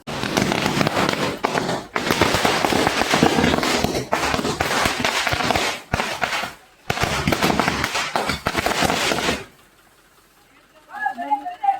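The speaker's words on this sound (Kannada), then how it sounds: "ಅದಾದಮೇಲೆ ಪಟಾಕಿದು ಬರುತ್ತೆ ಇವಾಗ" Firecrackers bursting at a Ganesha festival, dense crackling volleys in long loud bursts with brief gaps, then cutting out to near quiet with a faint tonal sound at the end.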